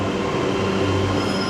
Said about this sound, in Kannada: ಅಲ್ಲೊಂದು ಟ್ರೈನ್ ಬರ್ತಾ ಇದೆ, ಇಲ್ಲೂ ಟ್ರೈನ್ ಬರ್ತಾ ಇದೆ.